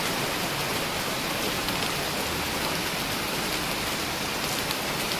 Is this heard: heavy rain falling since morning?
yes